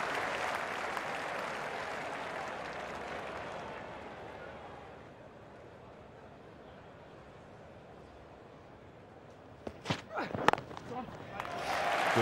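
A cricket crowd at Trent Bridge applauds a six in an Ashes Test, loud sustained clapping that fades over several seconds before a fresh burst of claps and cheering rises at the end.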